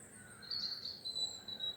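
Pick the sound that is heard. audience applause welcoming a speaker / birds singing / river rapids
birds singing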